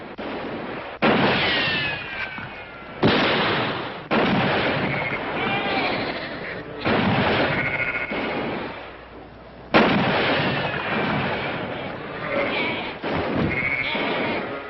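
Gunfire in a 1960 Bonanza western episode, several loud sharp shots, each followed by a long ringing echo with gaps of a second or two between them, and no talking.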